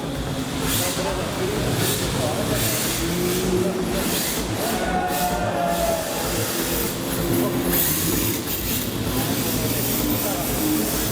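Drift cars at a drift competition accelerating off the start, engines droning loudly amid broadband roar and tire noise, with people talking over it.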